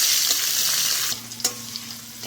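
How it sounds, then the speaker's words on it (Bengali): Chopped onion frying in oil with cinnamon and cloves for a rohu fish kalia, a steady close sizzle that eases midway, with a spatula scrape and a couple of light clinks. "পেঁয়াজটা ভালো করে ভেজে নিই।"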